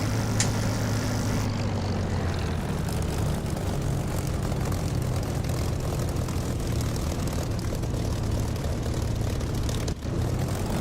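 A Spitfire's propeller engine drones at a steady roar during takeoff in the DCS flight simulator, a dense and continuous hum that stays level throughout with no voices.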